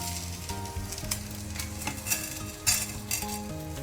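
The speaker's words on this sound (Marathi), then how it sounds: "एक तवो उन करून आळ्यानाक जाय अश्यो वस्तू आमी तिके भाजून काडया." Ingredients roast on a hot iron tawa, producing a steady sizzle with scattered scraping and clinking stirs, under a soft melodic background.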